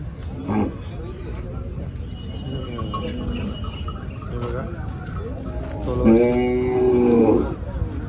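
A cow at a cattle market lets out a couple of low moos amid outdoor background noise, with a longer, louder moo near the end.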